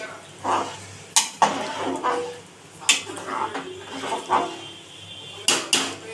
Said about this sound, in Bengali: এবার একবার নেড়ে দিচ্ছে।